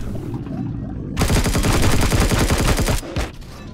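Rapid automatic gunfire from Zirax enemies in the sci-fi survival game Empyrion, a loud sustained burst of dense shots lasting about two seconds, then cutting off.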